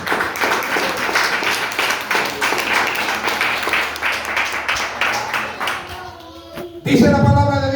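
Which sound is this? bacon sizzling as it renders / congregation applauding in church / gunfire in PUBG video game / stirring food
congregation applauding in church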